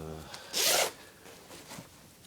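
A zipper on the back panel of army clothing is pulled open in one quick, close rasp. Faint handling noises and quiet rustles follow.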